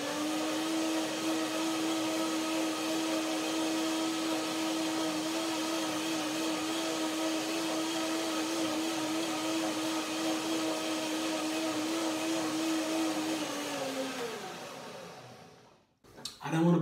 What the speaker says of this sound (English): So one more blending to make it really creamy.